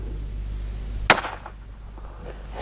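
A single sharp crack from a rimfire rifle fitted with a Bushnell 3-12x40mm scope, fired outdoors in wind, standing out loud and close against a steady low wind rumble, followed by a faint tail.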